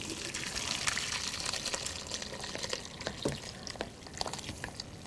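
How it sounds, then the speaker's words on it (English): Homemade vegetable stock, simmered two hours, pours and strains through a thin mesh sieve, giving a steady close liquid splashing and trickling with small clinks throughout. "then strain it through a thin mesh"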